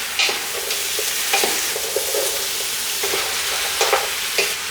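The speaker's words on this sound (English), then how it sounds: "Okay, let's stir." Beef for Cantonese beef and potato stew sizzles steadily in a pot while it is stirred, with light, irregular scrapes and clinks over the constant frying hiss.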